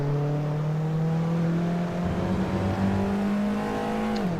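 Alfa Romeo 4C engine in a racing video game, a steady loud drone climbing gradually in pitch as it accelerates, then dipping sharply near the end as a gear change or lift-off hits.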